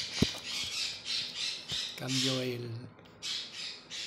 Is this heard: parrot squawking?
yes